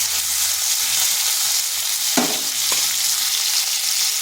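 Steady, dense crackling sizzle of fish frying in hot oil, loud and close, with a couple of soft utensil knocks partway through.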